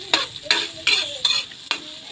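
Squid sizzling and being stirred in a frying pan, with five quick sharp scraping strokes and a crackling sizzle between them.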